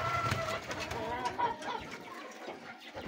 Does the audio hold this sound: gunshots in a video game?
no